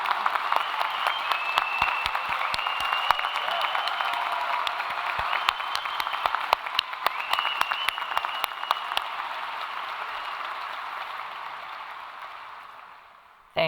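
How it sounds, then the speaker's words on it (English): Audience at a university convocation ceremony applauds military veterans, a steady wash of clapping that holds for about nine seconds, then thins and fades out near the end. "everyone else join me in thanking and applause"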